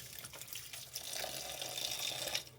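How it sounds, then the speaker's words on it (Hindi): Tap water runs steadily over spinach leaves being washed by hand in a home kitchen sink, a continuous splashing hiss with small shifts as the leaves are moved, no talking. "तो गाइस इसलिए मैं पालक को धो रही हूँ"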